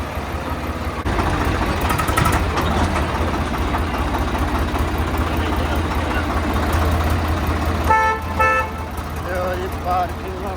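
A tractor pulling a trolley into a parking area on a pilgrimage road trip: a loud, steady diesel rumble runs throughout, and a few short horn toots sound near the end.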